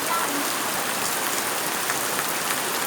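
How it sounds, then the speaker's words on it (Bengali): Heavy rain pours down without letup during flooding in a rural union of Faridganj, a loud, dense and continuous wash of drops striking surfaces nearby. "ওই যে বৃষ্টি এভাবে চলিতেছে কালকে রাত্রে থেকে, কোনো কমতি নাই।"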